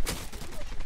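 A short, loud burst of rapid gunfire crackles in the online shooter Zula, dense and close for under a second.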